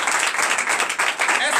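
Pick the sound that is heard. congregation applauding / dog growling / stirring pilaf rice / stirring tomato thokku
congregation applauding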